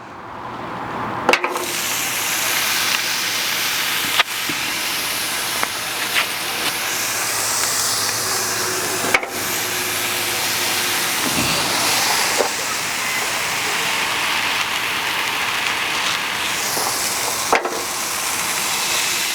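Fresh burgers sizzle on a hot outdoor RV grill at around 430 to 480 degrees, a steady loud hiss running throughout with a few sharp clicks and pops.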